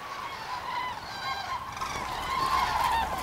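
A large flock of cranes calls at the Bodden near Zingst, a dense chorus of honking, trumpeting cries rising and overlapping continuously at moderate distance.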